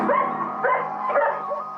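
Turbo, a shepherd cross dog aged two to three, gives three or four close, whining barks in quick succession, each rising and trailing off in a yelping, plaintive tone, with no one speaking.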